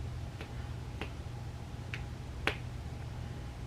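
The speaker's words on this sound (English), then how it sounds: "it feels like my rolling up mechanism is broken" The broken twist-up mechanism of a makeup sculpt stick gives four sharp, faint clicks spaced irregularly over a steady low background hum.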